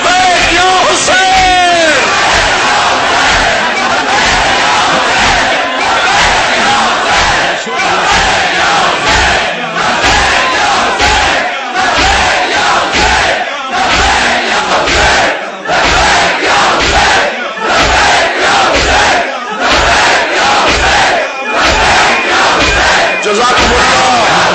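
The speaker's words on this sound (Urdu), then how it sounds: "دونوں ہاتھوں کو بلند کر کے پرزور طریقے سے لبیک یا حسین" A large crowd at a religious gathering chants "Labbaik Ya Hussain" in loud, forceful, rhythmic unison, with regular repeated bursts and short pauses throughout.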